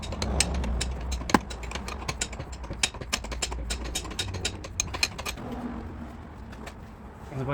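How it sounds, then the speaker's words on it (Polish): A ratchet unscrews the steering tie rods on a Ford Mondeo Mk4, giving a long run of quick, sharp clicks at close range. Pigeons coo softly in the background. "odkręcimy teraz drążki kierownicze"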